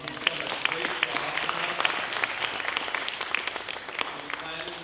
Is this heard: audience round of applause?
yes